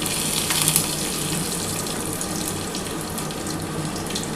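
Black cumin seeds hit hot oil left from frying eggplant for a hilsa fish curry, producing a loud, steady, close sizzling hiss that continues throughout without any voices.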